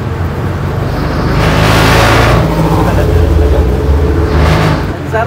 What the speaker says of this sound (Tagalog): Ang sarap pag-drive ng jeep.